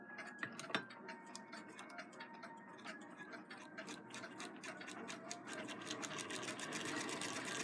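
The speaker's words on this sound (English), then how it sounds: "And then run it and wind your bobbin." A Singer 66 lock-stitch sewing machine winds a bobbin, giving a steady close whir threaded with rapid mechanical ticking that grows slightly louder and faster as it runs, with no voices.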